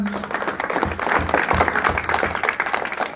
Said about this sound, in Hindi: पहले तो इनके लिए जोरदार तालियां